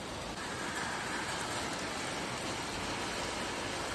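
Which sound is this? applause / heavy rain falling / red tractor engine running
heavy rain falling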